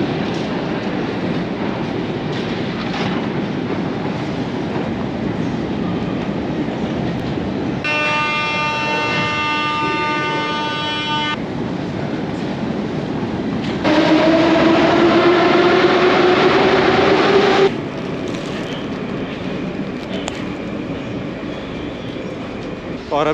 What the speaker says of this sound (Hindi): यहाँ से लेंगे मेट्रो, एक बार मेट्रो चेंज करनी पड़ेगी